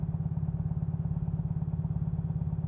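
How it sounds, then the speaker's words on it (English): A steady, rhythmic engine putters continuously at a moderate distance, its regular low thumping pulse unchanging throughout with no voices. "And I can still hear that fucking boat."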